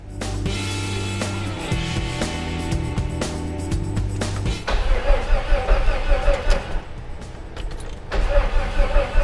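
A Jeep Cherokee XJ that had sat unused for 12 years cranks over with a steady, rough rhythm, then churns on less evenly without clearly catching, close and fairly loud.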